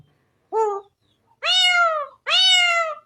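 A human voice imitates a cat's cry with three separate meows, the first short and the last two longer and drawn out. They are close and clear against near silence.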